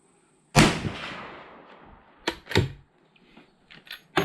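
A Mossberg Patriot rifle chambered in 350 Legend fires one sharp, loud outdoor shot with a rolling echo, followed by a few softer thuds and clicks.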